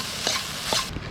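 Egg rice being stirred and mixed in a pan over a campfire beside a river, a steady close sizzle with two soft scraping sweeps of the spoon, no talking.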